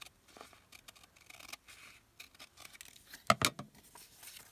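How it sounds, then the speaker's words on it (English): Scissors snip through paper along an edge while crafting a folio embellishment, a quiet close-up cut with a couple of sharper clipped bursts near the end, no talk. "let's cut right along this edge."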